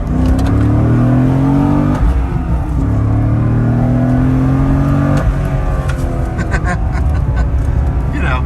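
A 2006 Corvette C6 with a six-speed manual in competitive driving mode revs hard and pulls through rising gear sweeps, shifting twice, loud and close throughout with constant roaring rumble.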